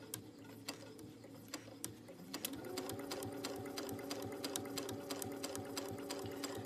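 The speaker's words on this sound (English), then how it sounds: "I'm going to sew back tacking." A sewing machine stitches fabric for reverse appliqué with a quarter-inch presser foot, back tacking; brisk rapid stitching hums close by, with sharp ticks at first, then a steady whine as it picks up speed.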